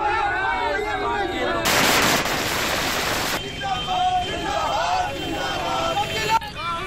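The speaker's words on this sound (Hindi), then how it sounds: "अररिया में कांग्रेस नेताओं ने जमकर आतिशबाजी की" Fireworks set off by Congress party workers in Araria, Bihar, celebrating an election victory: a dense burst of loud crackling bangs in the middle, with a crowd's chatter and voices before and after.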